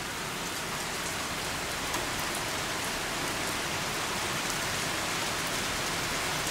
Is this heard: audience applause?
no